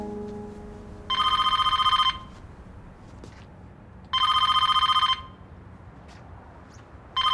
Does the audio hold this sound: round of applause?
no